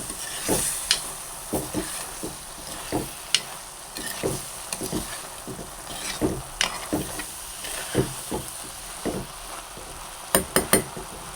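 Sardine heads frying with curry leaves and masala in a pan, a low constant sizzle broken by repeated clinks and scrapes of a spoon stirring at an uneven pace, close by and without voices.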